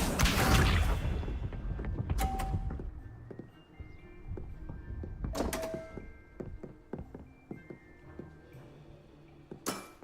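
Magical summoning spell effects in Hogwarts Legacy: sharp whooshing thunks and bright swishes recur several times over a quiet game backdrop, with faint ambient tones between casts.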